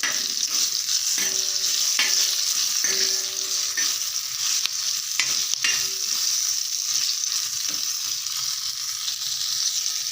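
Green chillies frying in a pan with salt stirred in, a steady bright sizzle with repeated scraping strokes of a spatula mixing at a close, even pace.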